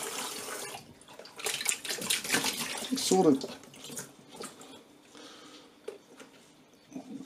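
Water rushing and splashing through the drum of an Indesit washer dryer under repair, a louder surge midway then trickling, with someone speaking briefly.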